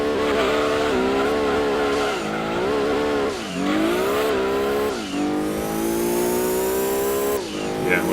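A racing car in Gran Turismo 2 screams through repeated accelerations, the engine pitch climbing, dropping on gear changes and climbing again, loud and close, with brief tyre squeal.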